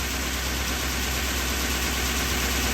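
A farm engine runs loud and steady, an unbroken drone with no pauses, while fertilizer is loaded up an auger into a trailer at canola seeding time.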